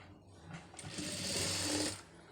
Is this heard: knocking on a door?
no